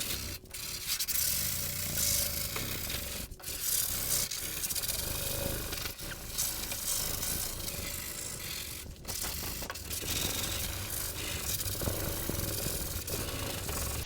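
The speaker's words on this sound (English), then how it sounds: "First I'm gonna start with some 80 grit on a sanding block" Steady abrasive scraping of 80-grit sandpaper on a sanding block against rusty metal, continuous strokes with a few brief pauses, close and fairly loud, no talking.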